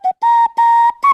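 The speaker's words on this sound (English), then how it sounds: "so he could whistle again." A person whistles a short tune of four clear, sustained notes with brief gaps between them, close and loud.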